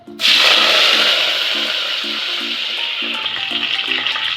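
Cumin seeds drop into hot oil in a pan while cooking a Telugu ridge gourd and prawn curry, bursting into a loud, steady sizzle that holds strong throughout, with faint rhythmic tapping beneath.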